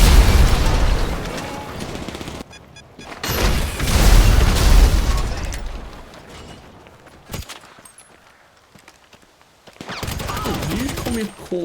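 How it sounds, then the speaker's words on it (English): Heavy explosions and bursts of gunfire as delivery vans are destroyed at a camp in GTA Online, loud rumbling blasts in two waves separated by a quieter stretch with sharp pops. "Dax then instructs us to head over to the Altruist camps where we can destroy the last of the hippies' delivery vans."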